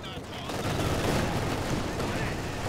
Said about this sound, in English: not sure if he can beat this machine gun